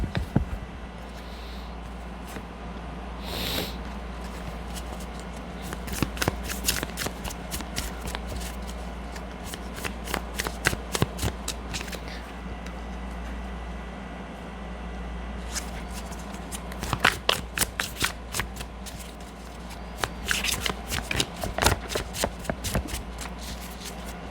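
Tarot cards are shuffled by hand in repeated riffling bursts, crisp and close, separated by brief pauses over a low steady room hum.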